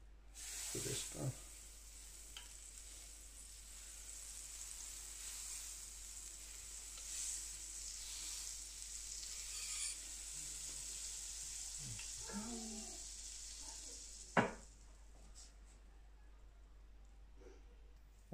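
Butter and an egg sizzle in a hot carbon steel griddle from Eisenkopf & Söhne on a stovetop, a steady fine hiss throughout with a few soft clicks and one sharp tap near the end, moderately quiet.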